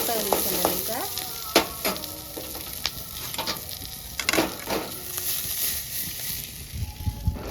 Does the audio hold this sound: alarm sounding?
no